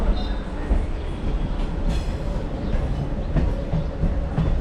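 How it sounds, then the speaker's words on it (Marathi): A train rumbles steadily along the tracks, a loud low roar with faint rhythmic clatter of wheels and a brief high squeal, close by. "हे बघा ट्रेन आपली हल्लेली आहे"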